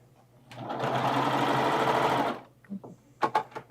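A sewing machine runs a steady stitching burst of about two seconds while sewing a Kimberbell crossbody bag at a stitch length near 2.5, followed by a few short clicks and handling noises.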